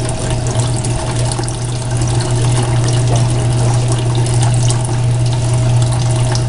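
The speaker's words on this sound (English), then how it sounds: "Turn off the water." Water runs steadily through a blue bowl gold concentrator processing black sand, making a loud, continuous rushing and trickling with a low pump hum and no pauses or voices.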